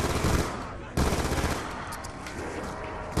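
A burst of gunfire rattles off in Black Ops 2 Zombies on the Nuketown map, two sharp onsets of dense, noisy shots in quick succession over game clamor, with a voice faintly present.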